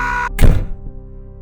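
A man bumps into a table with a single heavy, dull thunk at close range, and the sound dies away quickly into near silence.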